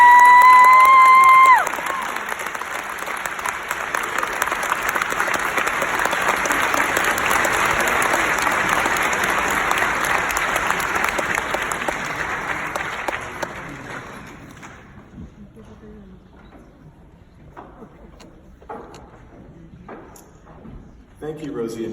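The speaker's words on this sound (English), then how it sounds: "give another big round of applause for the class of 2019" Audience at a graduation ceremony breaking into sustained applause for the class of 2019, loud dense clapping from a large crowd that fades out, followed by a quieter room with scattered thumps.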